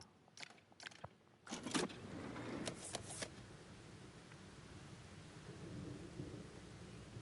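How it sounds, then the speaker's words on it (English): Thunder cracks out sharply in a few bursts at the start of a Planet Coaster 2 park scene, then steady rain hisses on and on, moderately loud and alone. "Sometimes it's raining in game."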